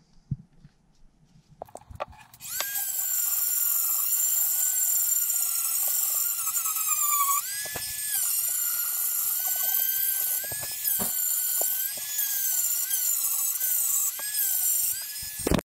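A rotary tool with sanding rollers whines at a high pitch after a quiet start, smoothing a Minarelli horizontal engine part. The steady scream briefly dips several times as it sands.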